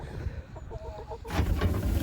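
Hens clucking in short, uneven bursts close by, followed by a louder stretch of rough noise and scuffling.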